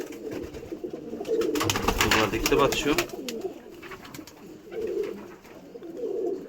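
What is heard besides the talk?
pigeons cooing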